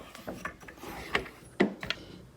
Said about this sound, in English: take our clamp and then squeeze this down